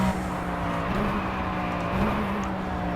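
A car engine in the racing game Project CARS on the Le Mans circuit gives a steady, sustained drone with small pitch shifts, with no voices.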